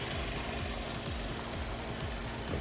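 A car engine idling after startup to warm up, a low steady rumble with faint rhythmic pulsing, close and continuous throughout, no talk.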